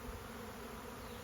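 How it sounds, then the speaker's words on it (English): A faint, steady insect buzz drones without a break during work on a 2014 Subaru Forester's drive shaft, with no voices over it. "I knew I was hearing buzzing when I was working on the Subaru."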